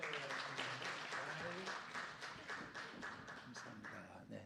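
A church congregation at a Sunday service claps together in a dense, steady patter that holds for several seconds, with a voice speaking over the applause.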